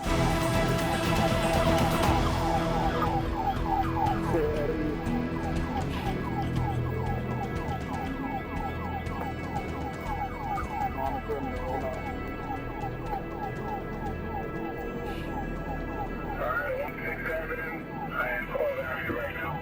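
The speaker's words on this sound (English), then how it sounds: "got chased by blaring sirens and flashing lights of police vehicles" Wailing police car sirens rise and fall continuously over rumbling traffic noise during a chase, loud and steady throughout with a busy street backdrop.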